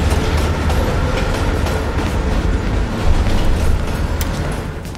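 Train rolling along in Call of Duty: Black Ops Cold War, a steady loud rumble with clattering rail noise throughout and a brief swell near the end, no voices.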